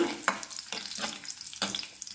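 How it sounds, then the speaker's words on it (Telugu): Mustard seeds, cumin and curry leaves sizzle in hot oil for tempering, a close, soft frying hiss broken by several sharp spatters and stirring clicks. "ఆవాలు జీలకర్ర కరివేపాకు వేస్తున్నాను బాగా తాలింపు అలాగ యాగనివ్వండి"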